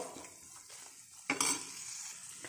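Peeled garlic being stirred into a spiced curry mixture in a pan, with soft scraping and mild sizzling, and a brief louder clatter of the spoon partway through.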